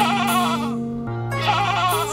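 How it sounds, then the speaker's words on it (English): Goats bleat repeatedly and loudly at close range as they are herded into a pen at evening, their wavering cries overlapping one after another. "Nashaki directs the goats into the pen"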